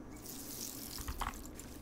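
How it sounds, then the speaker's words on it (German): Watering a field in the farming game Dinkum gives a soft running-water splash, a brief burst of trickling and droplets over a quiet background. "Ich wollte doch nur unser Feld gießen."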